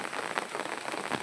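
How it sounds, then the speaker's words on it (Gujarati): Heavy downpour drumming on an open umbrella from underneath, a dense continuous close patter of drops with no voices. "વરસાદ પણ ધોધમાર શરૂ થઈ ગયો છે આમ જોવો તમે, તમને અવાજ સંભળાતો હોય છત્રીની અંદર"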